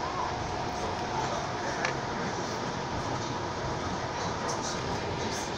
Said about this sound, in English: Well, there's another streetcar.